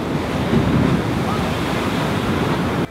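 Ocean surf rolls in steadily at a beach in Guayabitos, Mexico, a loud continuous roar of breaking waves with heavy wind buffeting the microphone and no clear talking.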